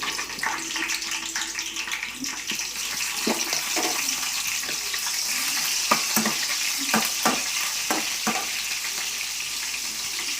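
Cumin seeds and green chilies fry in hot oil for chicken curry and bagara rice, a steady close sizzle with scattered sharp crackles and a few spoon scrapes against the pan.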